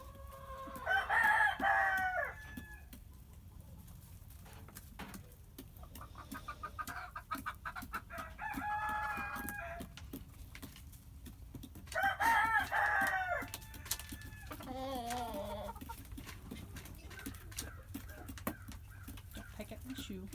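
Backyard chickens cluck and give a few louder squawks nearby, with bursts of calling at intervals over a constant low murmur, and a voice speaks briefly among them.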